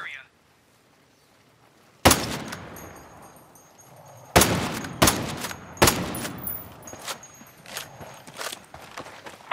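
Enemy gunfire aimed at the player in the video game Ghost Recon Breakpoint: after a quiet start, a sharp loud shot rings out, then a cluster of close, echoing bursts follows in uneven succession.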